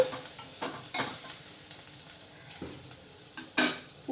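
Something fries in a pan until browned for a brinjal and chana dal curry, a soft sizzle broken by several sharp scrapes and clinks of a spoon against the pan.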